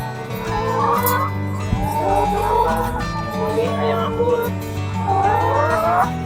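A flock of laying hens on a chicken farm clucks and squawks continuously, many birds calling at once, loud and close, with a steady hum underneath.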